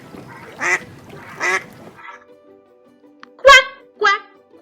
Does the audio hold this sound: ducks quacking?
yes